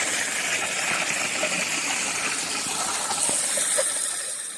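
Water rushes steadily along the Appalachian Trail in Massachusetts, a continuous hissing gush heard up close with no break and no voices.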